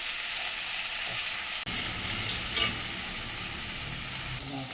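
Malai kofta dropping into hot oil on a low flame, a steady close sizzle and bubbling that swells slightly partway through, alone without talk.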